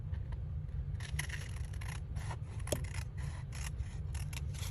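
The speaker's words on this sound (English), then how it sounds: "We're going to cut along the first fold." Scissors snip through folded junk mail paper in a run of crisp, close cuts, with one sharper snap near the middle over a low steady hum.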